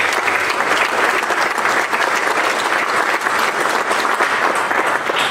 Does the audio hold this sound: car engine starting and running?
no